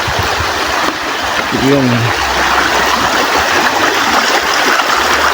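River water flows steadily and loudly nearby during a crossing on a muddy rural road, a constant rushing wash with a short spoken word partway through.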